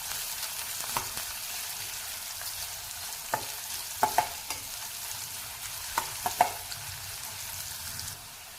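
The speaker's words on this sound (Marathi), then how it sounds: "आता कांदा आपल्याला चांगला परतून घ्यायचा आहे" Chopped onion sautéing with curry leaves and green chilli for a Maharashtrian upma, a steady close sizzle broken by repeated scraping clicks of a spoon stirring the pan, with no voices.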